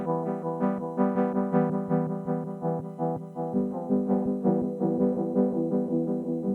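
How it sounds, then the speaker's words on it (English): Boss RE-20 Space Echo tape echo effect on a played instrument, repeating notes swelling into a warbling, slightly pitch-wobbly whoop that washes steadily and loudly throughout with no talking. "That distinctive like whoop sound is exactly what tape echoes sound like."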